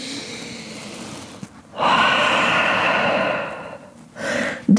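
A deep, long breath is drawn and released while holding downward dog during a vinyasa yoga session, a sustained breathy rush of air close by, followed by a shorter second breath.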